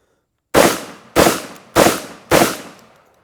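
Four loud, sharp shotgun blasts from a Vepr 12 firing slugs out of SGM magazines, evenly spaced about six-tenths of a second apart, each with a short decaying tail and no voices.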